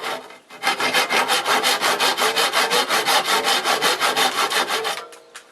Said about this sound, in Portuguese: Então eu vou começar aqui com o serrote, eu vou fazer um corte aqui no meio.